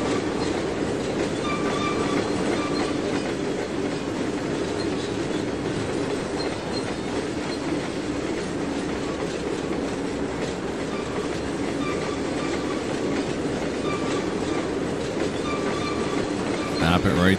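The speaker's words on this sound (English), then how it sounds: "We'll slow it down." Train hauling crude oil tanker cars in the Trainz 2019 railway game, a steady loud rolling rumble with rhythmic clickety-clack of wheels and faint squeal, running continuously throughout without speech.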